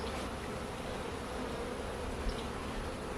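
Honey bees buzz in a steady, soft drone as a hive is opened for a first inspection, a continuous hum close by with no talking.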